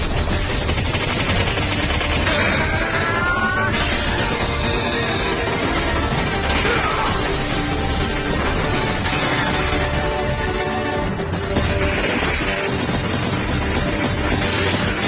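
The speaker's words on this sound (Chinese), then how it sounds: "在他手臂上爆炸" An anime fight scene in which a rapid seventeen-hit punch combo explodes on an opponent's arm, with a dense, loud barrage of impacts and blasts continuing with no break.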